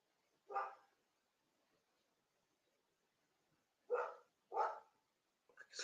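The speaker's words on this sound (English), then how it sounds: "So dog is barking." A dog barks in three loud, separate bursts, one alone early on and two close together later, with a fourth bark starting at the very end. The barks sound fairly near, with no talk over them.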